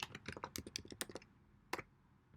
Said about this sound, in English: The client will then have to type their name